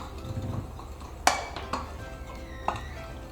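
Melted butter and milk stirred together in a bowl, a utensil scraping and clinking against the sides with a few sharp taps, quiet and close with no voices.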